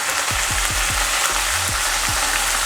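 Carnaroli risotto rice simmering in a pan as broth is ladled in after the wine has reduced, with a steady close sizzle and bubbling and a few soft low thumps spaced through it.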